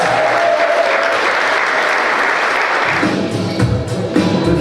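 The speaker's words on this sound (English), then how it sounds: "give a round of applause, everyone" A dense burst of clapping from a crowd at a wedding reception for newlyweds fills the whole stretch, loud and continuous, then thins toward the end as murmuring and cheering rise underneath.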